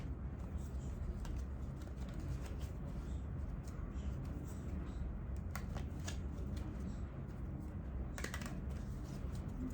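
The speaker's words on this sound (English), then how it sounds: "Okay, let's shuffle." Tarot cards being shuffled, a steady papery riffling and flicking that runs continuously at close range over a dense low background rumble.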